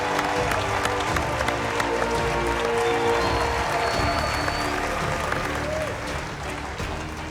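Past contestants applaud and cheer at a televised cooking competition finale, a sustained burst of clapping from a sizable group, loud and fairly close, tapering slightly toward the end, with voices mixed in.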